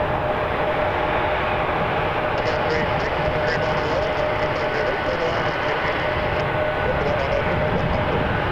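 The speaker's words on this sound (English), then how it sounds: "Air France 366 cleared to land, runway 23, 7879 Dreamliner from Paris." An Air France Boeing 787-9 Dreamliner from Paris lands on runway 23 at Toronto Pearson, a loud steady broadband engine roar filling the whole stretch, with faint wind and background hum throughout.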